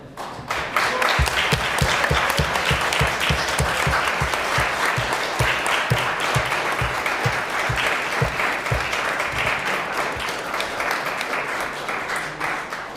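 Applause at a Day of Empathy gathering at the Michigan State Capitol, with loud, dense clapping from the crowd that starts almost at once and holds steady throughout, a few sharp claps standing out close by.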